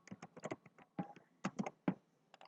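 Clicky computer keyboard typing in short irregular bursts of distinct keystrokes, close and fairly quiet, with no talking.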